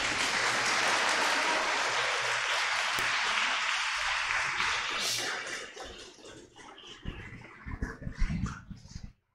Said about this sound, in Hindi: हम उनके लिए एक जोरदार ताली बजाएंगे